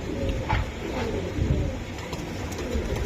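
Racing pigeons coo nearby in repeated low, throaty rolls, fairly close and steady against a muffled background.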